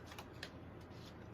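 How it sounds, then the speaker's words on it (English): Tarot cards being shuffled, a dense, continuous papery rustle and riffle with small flicking accents, soft and close throughout with no voice. "Just like shuffling things"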